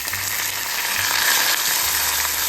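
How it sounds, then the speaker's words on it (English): Sliced shallots and grated coconut sautéing in a pan with dried red chilies and curry leaves for a Kerala tempering, a steady loud sizzle and crackle of frying in oil, close and continuous with no talk. "Saute until it is golden in color."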